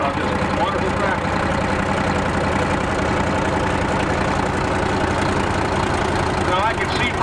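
A 1958 Oliver 99 diesel tractor idles at a steam-up show, its engine a steady, loud, continuous rumble that fills the whole stretch without pause.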